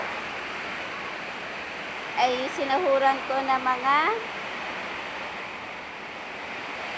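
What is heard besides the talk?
very heavy rain with water leaking into a house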